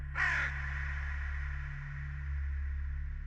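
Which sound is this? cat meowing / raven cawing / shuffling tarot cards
raven cawing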